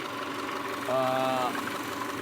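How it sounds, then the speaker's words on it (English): A 2007 Subaru Outback's naturally aspirated 2.5-litre EJ25 four-cylinder boxer engine idles with a steady low rumble, close by, while someone talks over it. "This is the EJ25 engine. This being the naturally aspirated engine."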